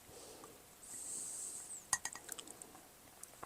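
A spoon taps and clinks against a dish while scooping a microwave eggless cake: a short cluster of faint, sharp, close clinks after a soft scrape, in a quiet room with no talking.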